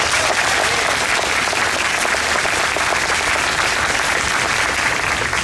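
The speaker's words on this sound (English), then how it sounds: "Let's give them a round of applause." An audience at the Morgan Park Academy commencement for the class of 2019 gives a dense, continuous round of applause, steady and even throughout with no voices standing out.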